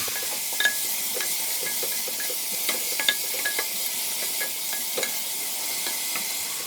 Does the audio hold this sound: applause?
no